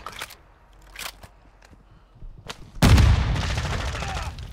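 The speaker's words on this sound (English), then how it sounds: "Where the hell are they shooting from?" Enemy gunfire in the Call of Duty DMZ beta: a few sharp isolated shots crack early on, then a loud sustained burst of heavy automatic fire and explosions erupts nearby and keeps going to the end.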